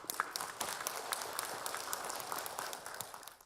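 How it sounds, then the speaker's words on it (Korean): An audience claps to welcome a lecturer onto the stage before a special talk on immunity, a moderate, even patter of many hands heard from a slight distance. "활발하게 활동하고 계신 한동아 강사님을 큰 박수로 모시겠습니다"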